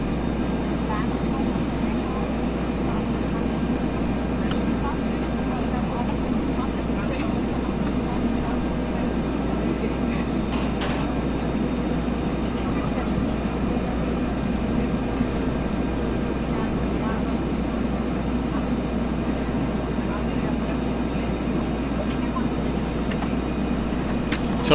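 A Bell 412 helicopter in X-Plane 11 on a maintenance flight near a landing pad gives a constant, steady rotor and turbine drone with a low hum that stays level throughout.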